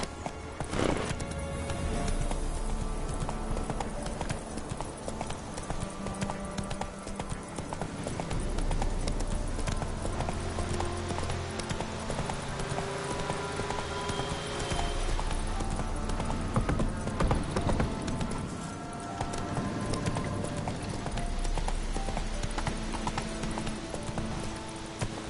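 Horse hooves clip-clop at a steady galloping rhythm in The Witcher 3, close and continuous over a dense game soundscape, with a brief whinny.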